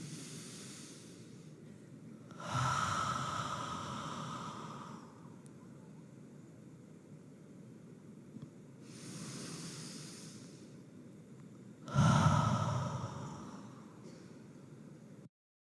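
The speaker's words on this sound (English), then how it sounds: "when you breathe out fully, stop there for a few seconds, even few seconds, consciously stop and then breathe in" Slow pranayama breathing exercise: two long, airy exhales and inhales, each lasting a few seconds. The breaths are close and soft, separated by quiet pauses, and no one speaks.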